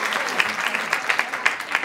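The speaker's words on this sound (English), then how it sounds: "Just give him a round of applause." Convention crowd applauding a cast member, many people clapping close and loud, with a few sharper individual claps popping out of the steady roar.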